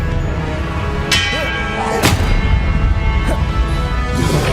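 Spell-casting combat in Hogwarts Legacy: a run of sharp magical blasts and booming impacts, several bursts spread over a few seconds, loud and close over a rumbling backdrop.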